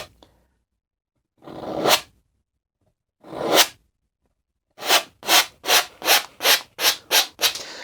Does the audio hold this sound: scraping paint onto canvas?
yes